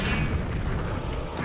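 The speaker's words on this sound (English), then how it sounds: "Drop a bomb." A deep, muffled boom rolls out as a bomb goes off in Sword of the Berserk: Guts' Rage, one low rumbling blast that fills the short moment with no talk.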